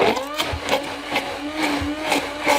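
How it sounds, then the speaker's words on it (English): Blender whirring through thick homemade mayonnaise as oil is worked in, a steady close motor whine with pulsing surges from an up-and-down blending motion, no talking. "and then proceed to blend it"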